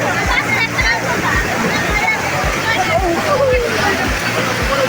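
Water rushes and splashes continuously at a waterfall at Jaflong in Sylhet, a loud, steady roar close by with faint voices of visitors mixed in.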